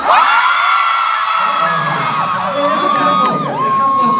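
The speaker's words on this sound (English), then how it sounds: "I really need you to scream loud" A live concert crowd of fans at a show screams and whoops loudly on a count of three, a dense sustained roar of high shrieks lasting several seconds.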